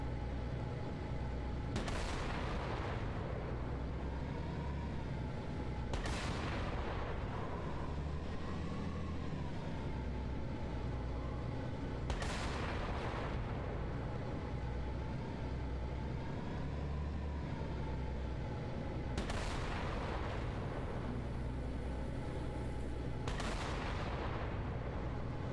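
Covenant tanks firing in Halo: Combat Evolved, five heavy booming shots spaced a few seconds apart over a constant rumbling battle drone and engine hum.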